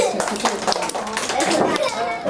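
Applause at a kindergarten TV-presenting workshop, with a brief burst of close clapping mixed with children's chatter and voices throughout.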